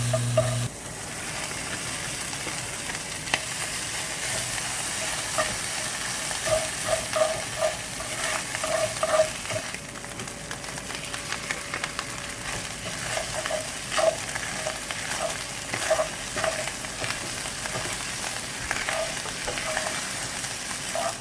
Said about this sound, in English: Still frying it around here a little bit here.